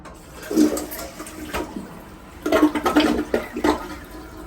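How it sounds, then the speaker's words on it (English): A household toilet with a fill-valve problem flushes with a gurgly sound, giving short bursts of rushing water and bubbling gurgles, first near the start and then in a louder, choppier run in the second half. "So that flush has always sounded off to me."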